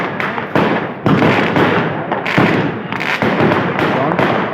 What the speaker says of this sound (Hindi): उसके बाद पटाखे देखो कहाँ फाड़ रहे हैं।